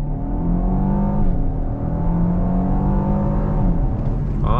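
A 2021 Genesis G80 Prestige twin-turbo V6 sedan accelerates hard from a stop at full throttle, heard from inside as a steady, rising engine drone with audible gear changes, with no talk over it.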